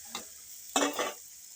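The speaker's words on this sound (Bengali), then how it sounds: "দিয়ে এইভাবে নাড়াচাড়া করতে হবে আরও 2-4 মিনিট" Two short stirring strokes through an egg and paneer curry seasoned with salt, turmeric and chili powder, a soft scrape and gentle sizzle, close and quiet, separated by a brief pause.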